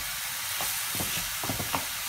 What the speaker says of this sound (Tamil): வதங்கினோடனே அரைச்சி வச்சுருக்க இஞ்சி பூண்டு பேஸ்ட் நல்லா வதக்கணும்.